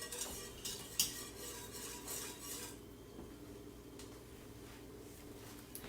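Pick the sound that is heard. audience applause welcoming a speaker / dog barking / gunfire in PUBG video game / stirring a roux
stirring a roux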